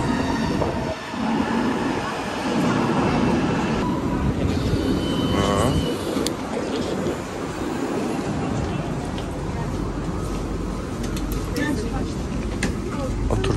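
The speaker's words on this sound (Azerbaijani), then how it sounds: "Metromuz da geldi." An Istanbul metro train rolls into the station with a loud, sustained rumble and a screech of wheels and brakes as it slows, while people talk nearby.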